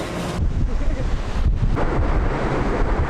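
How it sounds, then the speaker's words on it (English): Strong wind roars and buffets across the microphone in a constant, loud rumble on a ferry deck, with the wash of open sea beneath it, mid-crossing to Mallorca. "We are somewhere in the middle of the sea on our way to Mallorca. It's so windy"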